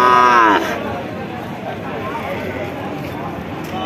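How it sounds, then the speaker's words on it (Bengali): A bull calf at a busy cattle market lets out one loud, close moo with a rising harmonic tone, then breaks off as crowd chatter and market bustle continue underneath. "কত সুন্দর একটা ষাঁড় বাছুর"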